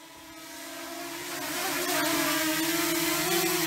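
A DJI Mini 2 drone approaches to land on a lookout tower, its rotors giving a steady tonal buzz that swells louder as it draws near, with no talking.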